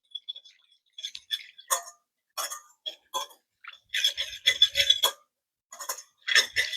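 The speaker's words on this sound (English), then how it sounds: "And then we're just going to start whisking that up and get it all nice and incorporated." A whisk clicks and clinks rapidly against a bowl while beating salad dressing of minced shallots and vinegar, bursts of sharp metallic ticking in uneven runs separated by short pauses, close and fairly quiet.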